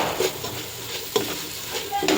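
Spice powders for a homemade lubika pickle are sautéed over a low flame and stirred in a pan, giving a soft sizzle broken by several quick scraping strokes of the spoon, fairly quiet and without speech.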